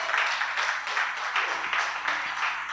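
A church congregation claps along in a steady rhythmic pattern, the bright, dense applause filling the space with even beats and no voices standing out.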